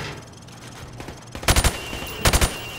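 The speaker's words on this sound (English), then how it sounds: "I want you to shoot the targets through the wood." Gunfire in Call of Duty: Modern Warfare Remastered as targets are shot through plywood: two quick bursts of three or four loud, close shots each, separated by a short pause over low background ambience.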